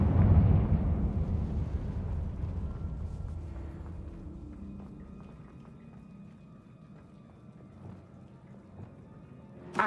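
A Confringo blasting curse bursts in a Harry Potter video game: a single heavy blast at the start, followed by a long rumbling decay that fades over several seconds, with scattered small debris-like ticks near the end.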